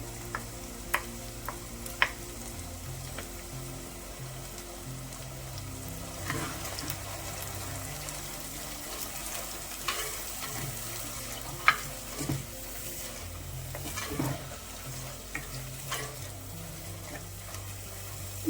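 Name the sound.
ground masala frying in oil for chicken curry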